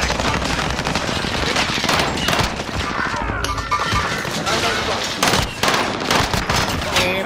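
Rapid, loud gunfire in a shooter video game, dense bursts and fusillades with crashing impacts filling the whole stretch, with voices under the shooting.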